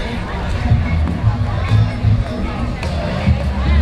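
Outdoor crowd murmur at a Juneteenth pop-up shop in Leimert Park, a steady babble of many distant voices with occasional footsteps and louder nearby chatter.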